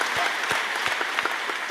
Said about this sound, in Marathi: विटेवरच्या मालकानं टाळ्या वाजवा